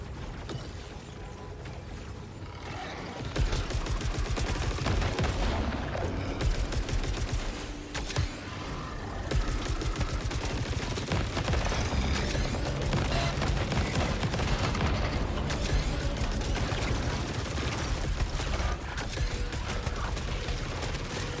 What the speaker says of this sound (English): That's totally the sound of a turret.